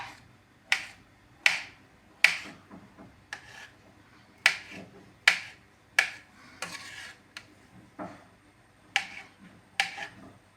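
A knife cuts through an avocado in a bowl, giving sharp, separate clicks and taps against the dish about once a second, close and fairly quiet, with no voices.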